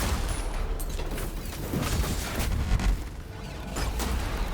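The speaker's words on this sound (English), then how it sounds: "There's so many explosions and effects going off." Dense, continuous bursts of explosions and combat effects in the action game Raiders of Blackveil, overlapping blasts and gunfire-like pops layered into a loud, chaotic roar with no pause.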